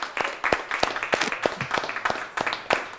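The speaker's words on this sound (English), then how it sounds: "a big congratulations, a big clap to Volkem Mladá Boleslav" Scattered clapping during an online closing ceremony for a mobility race, a handful of distinct claps at an uneven rhythm, fairly close, with faint background voices.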